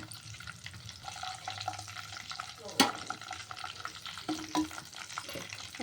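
Beaten eggs being stirred in a sizzling pan while making brinjal egg curry, a continuous frying crackle with scraping strokes and a sharp utensil clink midway, moderately close.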